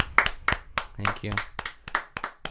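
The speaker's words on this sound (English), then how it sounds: "Can we get a round of applause?" A small, sparse round of hand claps, roughly eight distinct claps spaced apart, rises at a casual gathering, with a voice talking over them.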